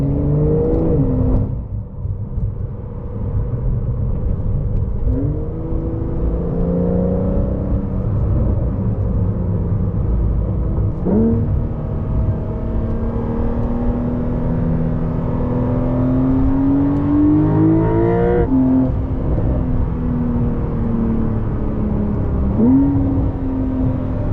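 A 2024 Porsche 911 Carrera T with PDK transmission revs up again and again, pitch climbing through the gears then dropping at each shift, loud and continuous.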